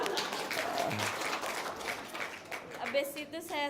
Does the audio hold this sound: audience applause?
yes